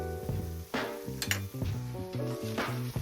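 Kashmiri red chili powder, freshly ground coriander and cumin powder sizzle hard in a hot pan for butter chicken curry, a close, crackling hiss with a few brief stirring knocks and no talking.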